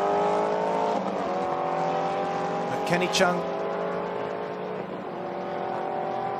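GT race cars at a China GT Championship race, a steady loud engine drone with a brief sharper surge as a car passes, heard under continuous commentary from a broadcaster.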